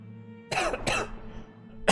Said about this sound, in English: This cough is just not going away.